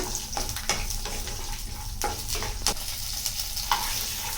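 Onions sizzle steadily in a hot pan while a spoon stirs and scrapes against the metal at irregular intervals.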